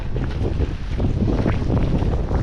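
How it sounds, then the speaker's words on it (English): Strong, steady wind roars and buffets the microphone on a ski slope during a storm, a dense low rumble with gusty surges throughout and no one speaking. "it is so windy right here"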